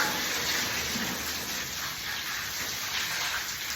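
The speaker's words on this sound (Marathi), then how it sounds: "आज मी पाणी मारत आहे मम्मीच्या बदल्याला" Water sprays outdoors on a hot summer day, a close, steady broadband hiss of rushing spray that holds at an even level for several seconds.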